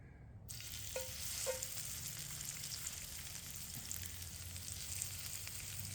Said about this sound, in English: we got some olive oil heating up in our pan right here. So what we're gonna do is put our, I'm gonna give these guys a good sear here.